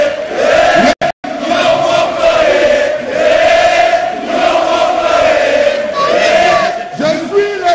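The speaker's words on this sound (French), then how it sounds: "Je vous demande quand même de les applaudir" A large crowd at a stadium event welcoming the returning Leopards team staff roars and cheers loudly and continuously, with a brief dropout near the start and a voice booming over it.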